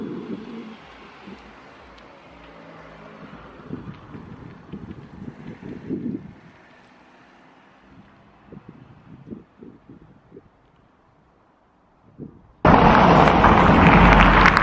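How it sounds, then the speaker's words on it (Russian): Strong, near hurricane-like wind blows outdoors at night, rumbling steadily at first, then slamming into the microphone as loud, roaring buffeting over the last couple of seconds. "Ужаснейший ветер, прям почти как ураган."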